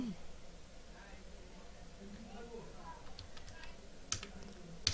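Keys on a computer keyboard are pressed while text is entered, faint soft clicking heard under a person talking, with a couple of sharper taps near the end.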